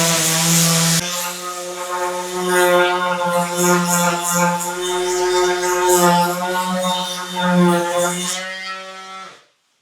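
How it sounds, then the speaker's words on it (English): An orbital sander runs steadily across a wooden coffee table top, giving a loud continuous harmonic whir with a buzzing texture that lasts several seconds and then cuts off abruptly. "let's run that Orbital sander around it a bit"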